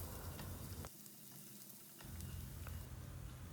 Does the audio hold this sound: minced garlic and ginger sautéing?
yes